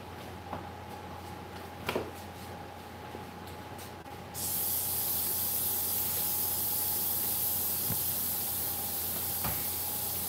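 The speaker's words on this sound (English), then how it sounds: "I'll spray it with that stuff." An aerosol spray can releases a sealing coat in a workshop, first in faint brief bursts, then as a steady loud hiss held for several seconds.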